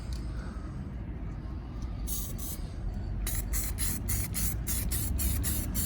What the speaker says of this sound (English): So I'm going to try spraying a bit of this on and then seeing if I can add more flock that way.